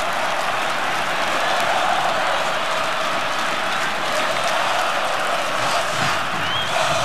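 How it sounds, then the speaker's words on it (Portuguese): Coritiba fans cheer in a packed football stadium during a Copa do Brasil 2011 match against Vasco. Loud, steady crowd roar with clapping and shouting that never lets up. "Torcida do Coritiba incentiva."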